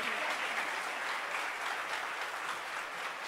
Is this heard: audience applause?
yes